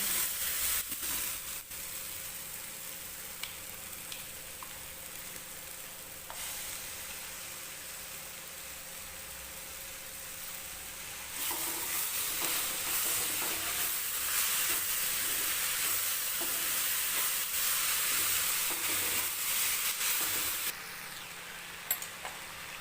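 Onions, tomatoes and green chili fry in a pan for paneer bhurji, a steady hiss of sizzling that swells louder midway and carries on evenly with faint stirring, no talk.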